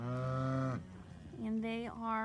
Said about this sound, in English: I love our cows.